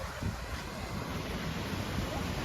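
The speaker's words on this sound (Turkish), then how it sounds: "Arkadaşlar çok dalgalı." Rough, choppy sea waves at a beach churn steadily in a broad, continuous wash, with heavy wind buffeting the microphone throughout and no clear individual breakers.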